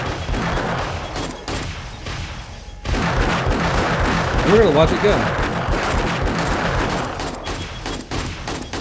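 Automated turrets in the 7 Days to Die video game open fire on a horde of zombies, loud continuous rapid gunfire that swells after a brief lull, with someone talking over it.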